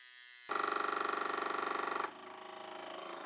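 An electric accumulator pump on a Rolls-Royce Silver Shadow or Bentley T-series hydraulic system runs up to pressure, first as a loud buzzing whine and then as a quieter, steady hum.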